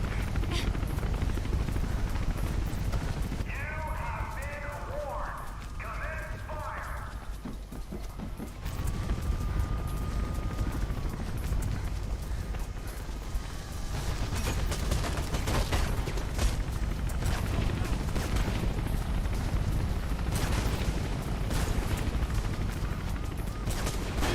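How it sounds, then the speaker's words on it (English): A helicopter pursues the player through canals in the video game Mirror's Edge, its steady rotor roar running the whole stretch with repeated bursts of gunfire cracking over it. "Chopper's spotted you. Make a run for it."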